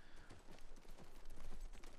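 Horse hooves clip-clopping in The Last of Us Part II, a steady rhythmic trot of hoof beats held at moderate distance, fairly quiet and continuous with no voices over it.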